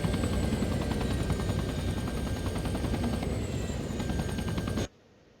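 Close-support attack helicopter in the military game Arma 3, its rotor chopping loudly and continuously with rapid thudding blade beats and a whining turbine tone, then cutting off abruptly near the end.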